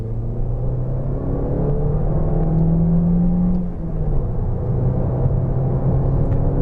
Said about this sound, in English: I'm already over 60 miles an hour in third gear